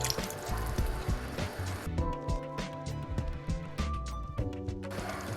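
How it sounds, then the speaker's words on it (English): Homemade sauce being poured into a hot pan of peppered beef just after red wine, a steady liquid pour with bubbling, dripping and sizzling, close and moderately quiet. "immediately after the wine, I'm going to pour in my sauce that I made earlier."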